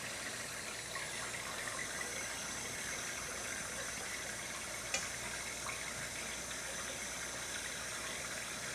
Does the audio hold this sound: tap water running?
yes